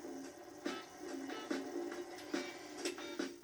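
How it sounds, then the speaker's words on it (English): A kitchen mixer works cold unsalted butter into biscuit dough, with a steady whirring motor hum broken by regular soft knocks and bumps about every second. "I'll put this on the mixer and cut in the butter to work it in until I no longer see large pieces"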